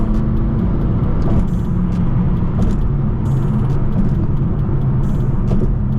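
Dense continuous road and engine rumble from inside a tuned 800HP BMW M6 driving slick, snowy New York City streets, with faint clicks and clatter over the steady drone.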